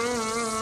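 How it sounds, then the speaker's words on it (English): A cicada calls loudly up close, a steady, dense, whining buzz with strong tonal overtones that holds without a break for the whole short moment. "there's one bug around here that tops the bill, cicada."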